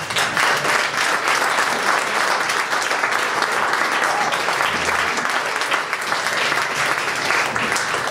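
Sustained audience applause fills a comedy club at Club 54 as a comedian is welcomed to the stage, dense and steady clapping throughout with a faint crowd murmur and no talk over it.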